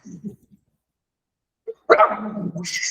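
A dog barks sharply a couple of times after a short quiet gap, with a brief yip earlier; fairly close and fairly quiet.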